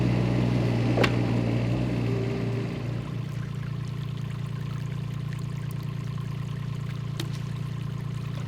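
Water pouring and trickling steadily out through a farm drainage outlet, a continuous close wash of flow over a low steady hum, with a couple of sharp clicks and no voices.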